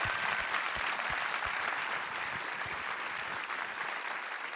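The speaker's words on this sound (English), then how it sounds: "So let's just give them a round of applause." An audience in a theater applauds projectionists, a dense steady wash of many hands clapping at once that continues evenly throughout, heard at a moderate distance.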